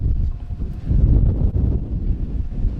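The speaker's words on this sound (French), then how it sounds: "Et un fort vent aussi." Strong wind at the Olympic Stadium in Montreal buffets the microphone, a loud, low rumbling roar that gusts and swells continuously without a break.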